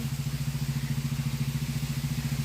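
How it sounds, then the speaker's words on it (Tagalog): A motorcycle engine idles nearby with a steady, throbbing putter and a regular pulsing rhythm, on a farm during a typhoon. "ang ingay naman ng motor"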